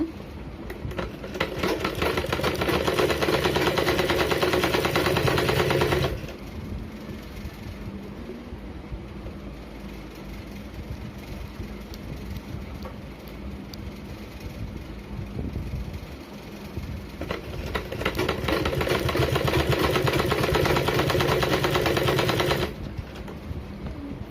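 Sewing machine stitching blouse fabric, running in two loud bursts of rapid mechanical chatter at the start and end with a quieter pause between.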